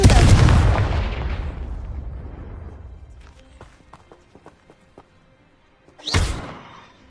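A Confringo blasting spell in a Harry Potter video game goes off as a loud, close explosion that rumbles and fades over several seconds, followed by faint clicks and a second sharp whooshing burst.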